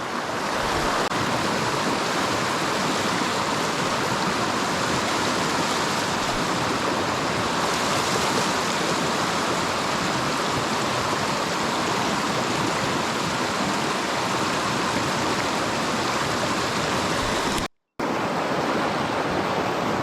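A small mountain stream with a deep run, flowing in bull trout country: a steady, close, broadband rush of water that stays constant throughout, briefly cutting out near the end.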